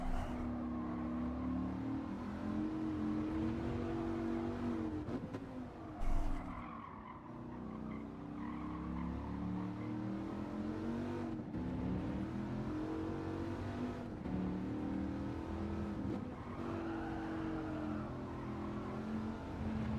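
A rental race car in Gran Turismo 7 revs steadily through a time trial, its engine note rising and falling continuously for about twenty seconds, with a brief tire squeal and no talk.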